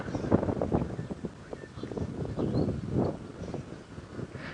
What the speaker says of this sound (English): It's still very, very windy here.